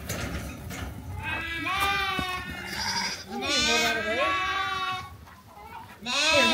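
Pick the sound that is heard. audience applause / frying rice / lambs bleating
lambs bleating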